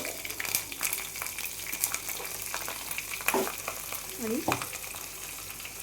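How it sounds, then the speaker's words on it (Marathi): Spices tempering in hot oil for khaman dhokla sizzle and crackle steadily at close range, with scattered pops and a brief spoken word. "त्याची फोडणी करून घेऊया छान असं खमंग"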